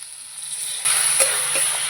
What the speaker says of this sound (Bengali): এবার মশলাটাকে পেঁয়াজের সঙ্গে ভালো করে কষিয়ে নেবো